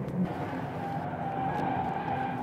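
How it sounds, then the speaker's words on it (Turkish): A Jaguar XF 2.0D is driven hard into a corner under braking, its steady engine and tyre noise holding at a close, even level with a faint squeal of the tyres near the surface limit. "Ayağımı hiç kaldırmadan viraja giriyorum. Fren."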